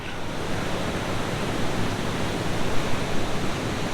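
Broad, constant roar of falling water at Sprite Falls in Majayjay, Laguna, dense and unbroken, like a waterfall heard up close.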